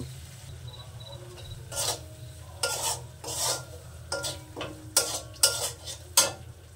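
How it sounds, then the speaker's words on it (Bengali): A spice paste with turmeric being stirred and fried in a pan, a low sizzle under repeated scraping strokes of a spoon against the metal, loud and close, with no voices. "মশলাটাকে আবার সুন্দর করে কষে নেব"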